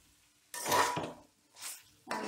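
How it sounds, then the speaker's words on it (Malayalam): A spoon scraping and clinking against a pan while Kerala beef roast with pepper powder is stirred, two or three distinct stirring strokes separated by quiet pauses, fairly close. "ഇതിലേക്ക് 2 സ്പൂൺ കൂടിയും കുരുമുളക് പൊടി ഇട്ട് നന്നായി ഇളക്കാം"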